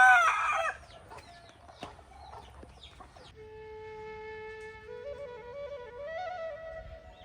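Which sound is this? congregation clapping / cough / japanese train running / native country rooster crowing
native country rooster crowing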